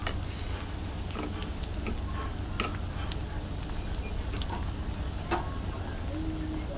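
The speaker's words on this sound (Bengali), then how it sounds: "এবার আমি ভালোভাবে আবার নাড়াচাড়া দেব" Spices, including chili powder, being stirred in hot oil for garlic pickle: a steady soft sizzle with scattered light ticks and scrapes from the spoon throughout.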